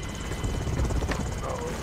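A video game helicopter thumps steadily with low rotor chop and a broad rushing noise, up close and fairly loud throughout.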